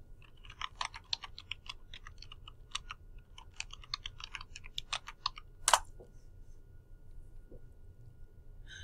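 Soft, quick keystrokes on a computer keyboard in irregular bursts, with one sharper click near the end, faint and close.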